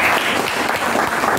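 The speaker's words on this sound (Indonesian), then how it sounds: "Oke, bagus. Tepuk tangan." Brief burst of clapping from a classroom of students, dense and fairly loud, lasting just over a second with no talk.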